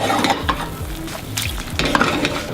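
An egg fries in a pan with a loud, close, continuous sizzle, broken by scraping and stirring clatter of a utensil against the pan.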